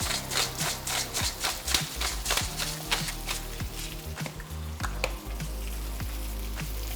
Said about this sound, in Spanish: Solamente un salteado así suavecito. No quiero que quede muy blanda la cebolla.